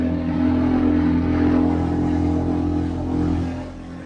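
A Hanko Boats Model 3096CV engine runs steadily at 5,000 RPM while cruising at 36 miles an hour, a loud, even droning hum with slight swells and no speech over it.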